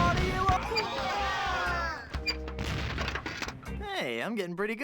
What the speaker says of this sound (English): I like how I don't have to reload this cannon